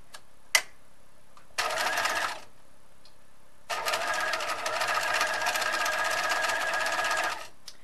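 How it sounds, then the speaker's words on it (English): A sewing machine stitches a men's shirt collar at a 5/8 inch seam allowance, first a sharp tick, then a short burst of stitching, a pause, and a longer steady run, close and alone. "I'm going to go ahead and sew my collar at a 5/8 inch seam allowance."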